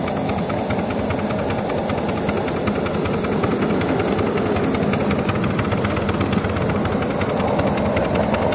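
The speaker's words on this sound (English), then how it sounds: "A bit of wheel spin." Model steam locomotive 3401 slipping its wheels while climbing a 1 in 70 gradient on a model engineering circuit, heard as a loud, steady, continuous hissing roar with fast chuffing texture throughout, no talking.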